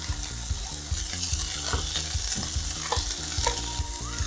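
Cooked rice being stirred and fried with vegetables in a pan, steady sizzling with repeated scraping strokes of the utensil, close and alone with no talking.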